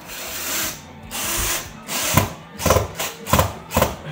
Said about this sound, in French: en train de finir de visser le placo des joues de fenêtre